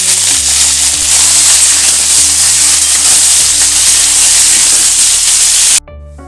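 Pointed gourd and potato pieces fry together in a pan, a loud, dense, continuous sizzle with a faint hum beneath, close by, that cuts off abruptly near the end.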